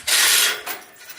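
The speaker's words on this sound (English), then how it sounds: "then we say hi to our goat Donnie" A young goat gives a loud, close bleat followed by a shorter, softer second call, with no talking over it.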